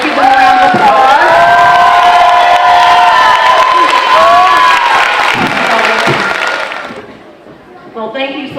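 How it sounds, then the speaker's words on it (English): Audience at a New Highland student showcase breaks into loud, sustained cheering, whooping and applause from a crowd that includes children, fading out near the end as a voice begins to speak. "Let's give them a round of applause."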